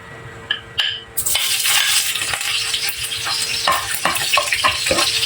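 Garlic hits hot oil for pork afritada, bursting into a loud sizzle after a few clinks of a utensil, then settling into a continuous close crackle with intermittent stirring scrapes.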